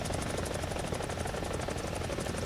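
Steady, loud helicopter rotor thump and turbine whine in War Thunder gameplay, a continuous rhythmic beating throughout with no pauses.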